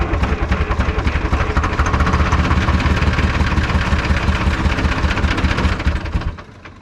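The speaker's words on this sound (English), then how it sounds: "Gonna try a little snorty ether, see if she'll fire." A large diesel engine on an old skidder that sat unused for 15 years, cranking on ether and trying to fire: a loud, close, continuous rough chugging churn that holds for several seconds, then cuts off abruptly.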